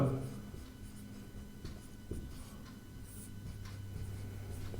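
Pen or chalk writing during a Class 10 maths lesson on arithmetic progressions, with quiet scratching strokes in short bursts over low room hum, faint and close.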